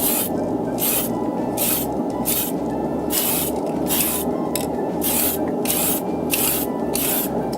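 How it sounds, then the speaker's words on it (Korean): Repeated bursts of aerosol spray paint hissing as plastic model kit parts are painted, about a dozen short sprays in a steady rhythm, close and loud. "큰 부품을 이제 캔 스프레이를 사용해서 뿌려주게 됩니다"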